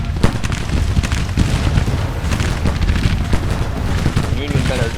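Battle din from the video game Grand Tactician: The Civil War, with artillery booms and rapid gunshots overlapping densely and loudly throughout, a voice audible beneath.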